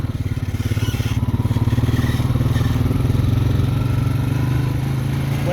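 A manual ATV engine runs steadily in second gear through a mud pit, a loud close rumbling putter with a rapid pulsing beat and slight throttle swells, and no talk over it.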